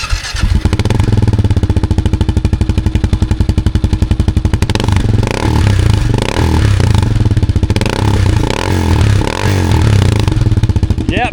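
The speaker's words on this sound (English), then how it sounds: "I want to hear what this new exhaust sounds like." A KLR 650 single-cylinder motorcycle with a new aftermarket exhaust starts up on a very hot day and settles into a loud, close, steady thumping idle with a few blips of throttle and some mechanical clatter.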